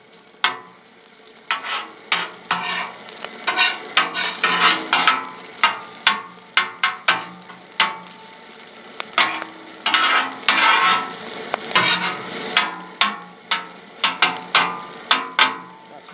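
Red shrimp, rice, snow peas, ginger and water chestnuts sizzle on a Blackstone griddle while a metal spatula scrapes and clanks in irregular bursts, close and fairly loud over a soft frying hiss.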